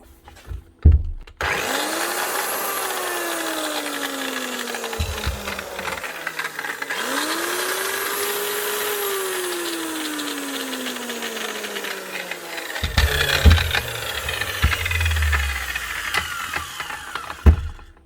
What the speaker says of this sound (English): Starting off the day with an old reliable Makita 9-inch grinder.